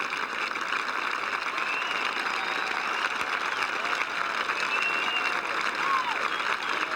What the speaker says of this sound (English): And he will get, as will Faldo, a gracious ovation